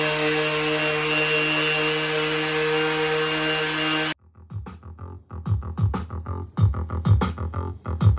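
A steel belt buckle is worked with 120-grit abrasive, giving a loud, steady grinding hum that runs unbroken for about four seconds and then stops, leaving scattered rubbing and handling noises.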